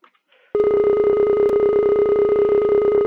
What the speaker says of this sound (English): I'm gonna do the coin sound and I'm gonna edit it.